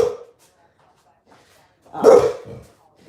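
A dog barks indoors after a knock at the door; a short bark at the start, then after a pause a louder, close burst of barking that trails off.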